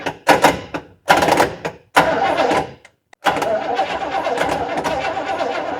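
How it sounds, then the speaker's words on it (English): Starter on a barn-find car cranking in several short bursts separated by brief pauses, then a longer continuous stretch of cranking, loud and close. "now let's bump that starter a time or two and see what it does"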